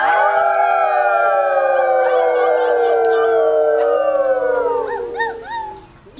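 Several people imitate a coyote howl together, loud and close, their long overlapping wavering howls sliding downward before trailing off into a few short yips.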